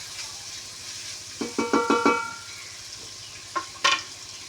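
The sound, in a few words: sautéing ginger and garlic in a pan for beef curry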